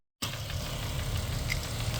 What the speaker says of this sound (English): A little bit of sea foam seemed to have calmed the engine down a little bit